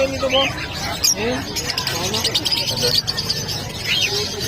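Bird squawks and chirps ring out amid people talking nearby at a bird sale, with a couple of higher calls standing out.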